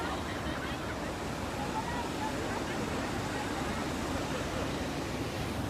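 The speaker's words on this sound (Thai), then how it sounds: "นี่ระดับน้ำ นะครับไหลเชี่ยว" Swift floodwater of the Chi River rushing past a breached, eroded levee beside flooded rice fields in rural Thailand, a steady broadband roar with no letup, heard outdoors with faint wind.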